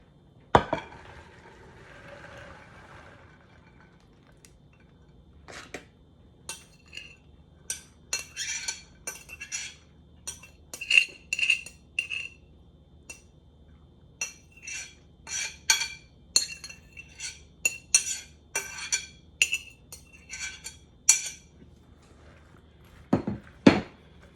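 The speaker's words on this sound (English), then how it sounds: "Now we're just going to throw our beans in." Dry black-eyed peas, two pounds of them, poured into a large crock pot, scattering in bursts of sharp clicks and rattles against the pot, close and fairly loud with no talking.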